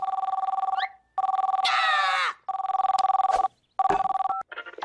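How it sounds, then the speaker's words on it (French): An electronic distress signal rings in rapid pulsing bursts separated by short gaps, with a harsh, screechy sweep in the middle. "Oh, c'est un signal de détresse."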